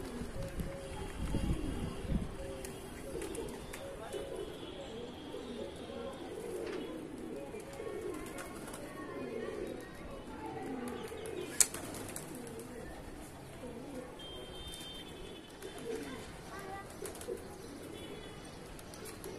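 Pigeons cooing in a soft, steady low murmur throughout, with faint background noise and occasional light clicks.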